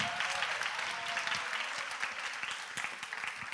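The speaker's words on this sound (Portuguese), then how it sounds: "Uma salva de palmas para a Duda e para o Duca." A church congregation claps warmly for Duda and Duca, a dense, steady wash of many hands applauding close by that carries on without a break.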